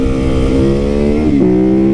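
A gas-powered motorcycle engine revs loud and close, its steady rumbling note climbing and then dropping in pitch near the end, with no talking over it.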